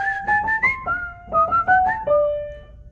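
A whistled melody with a whimsical little tune, clear and close, moving through short stepped notes before settling on a long held final tone, with no talking.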